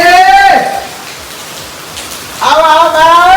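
Steady rain pours down outdoors, an even wash of hiss filling the gap between a man's speech at the start and end, moderately loud and continuous.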